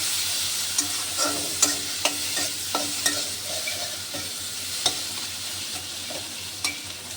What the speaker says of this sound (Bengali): এখানে টমেটোটা কষুক, তারপরে আবার দেখাচ্ছি।